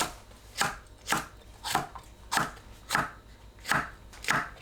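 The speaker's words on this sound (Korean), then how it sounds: "파, 청양고추, 홍고추를 어슷 썰어주세요" A knife slices green onion and chili peppers on a cutting board, eight crisp, evenly spaced strokes in a steady rhythm, close and clear with no talking.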